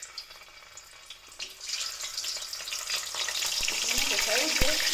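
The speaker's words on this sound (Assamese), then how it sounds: "মোৰ তেল গৰম হৈ গৈছে। এতিয়া মই পনীৰখিনি আধা ভাজি ল'ম।" Paneer pieces half-frying in hot mustard oil in a home kitchen, a soft hiss that swells into a steady, louder crackling sizzle with a few sharp clinks of utensils.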